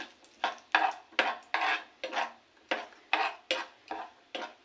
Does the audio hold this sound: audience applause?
no